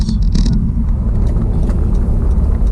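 A Honda car driving, its engine a steady low rumble heard from inside the cabin, with a brief shift in tone near the start as the gears change.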